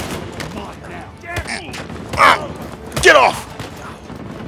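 Sniper gunfire in the video game Uncharted 4: a few sharp shots and bursts ring out amid game noise, partly under excited talk from a player.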